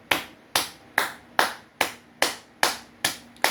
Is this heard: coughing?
no